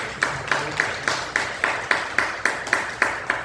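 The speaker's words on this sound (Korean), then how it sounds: "우리 박수로 감사하고" Church congregation clapping in thanks, heard as a steady, even rhythm of about a dozen unison claps spaced roughly a quarter second apart, fairly close and moderately loud, with no talk over it.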